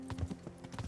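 Horse hooves clip-clop in Kingdom Come: Deliverance, a quick run of several close, moderately loud hoofbeats in an uneven gait over a low game backdrop.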